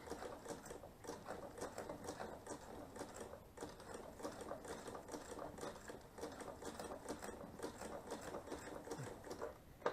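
An embroidery sewing machine stitches a morning glory flower design, its rapid, even needle chatter running steadily and close without a break.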